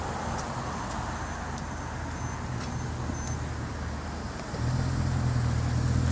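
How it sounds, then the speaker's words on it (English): A 2016 Lamborghini Aventador SV engine idles as a steady low drone, then steps up to a louder, deeper hum partway through and holds there. "It's the Lamborghini Aventador"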